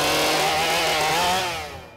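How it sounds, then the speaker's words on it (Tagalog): A chainsaw cutting a coconut tree runs loud and close, its engine whining steadily before the pitch sags and the sound tapers off toward the end. "nagdesisyon ng putulin ang puno ng niyog gamit ang chainsaw."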